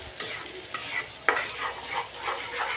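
Spice paste sizzling in hot oil while being stirred and fried for a bottle gourd peel bharta, with scraping spoon strokes against the pan over a steady crackle.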